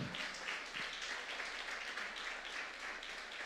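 A church congregation applauds during a Sunday service, a steady wash of many hands clapping together, faint and somewhat distant, sustained evenly throughout without speech.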